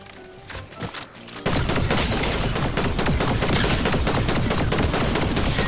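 Rapid gunfire in a battle royale video game bursts in loudly after a quieter opening second and then holds as a dense, continuous barrage of shots to the end.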